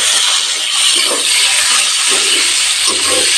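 Steady, loud hiss of chopped tomatoes frying lightly in a pan with dried red chilli tempering, a constant sizzle with faint stirring underneath and no talking.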